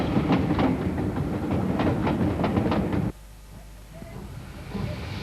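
A restored 1888 London and North Western Railway 0-6-2 coal tank steam locomotive rumbles loudly with rapid chuffing and rail clatter, then abruptly drops to a quieter, more distant hiss and rattle.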